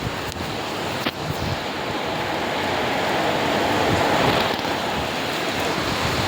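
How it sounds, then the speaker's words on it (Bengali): Heavy rain pours down in Bangalore, a dense, even hiss of falling water with a faint wind-like rush, loud and steady for the whole stretch with no voices. "কত বৃষ্টি পড়তেছে দেখো আজকে,"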